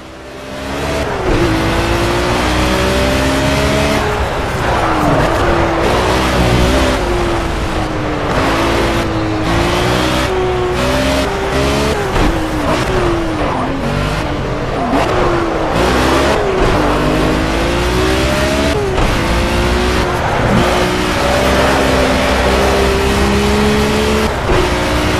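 BMW M1 Procar engine racing in the video game Project Cars, loud continuous revving with repeated gear shifts rising and falling in pitch throughout, no talking.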